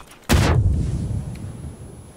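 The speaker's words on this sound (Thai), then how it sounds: "ถังแก๊สระเบิดว่ะพี่ไฟยาวเลย" A gas tank blows up in the PUBG battle royale game: one sudden loud blast followed by a long, fading rumbling tail lasting about two seconds.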